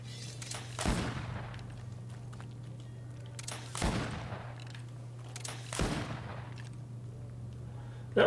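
Three separate gunshots in the video game Greedfall ring out a few seconds apart, each a sharp crack with a short tail over a steady low hum.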